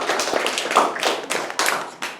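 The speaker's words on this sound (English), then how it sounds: "debate with a big round of applause." A school classroom audience claps in a big round of applause before a stem cell debate, brief bursts of hand claps coming close and fairly loud.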